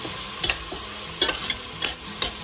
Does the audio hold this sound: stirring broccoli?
yes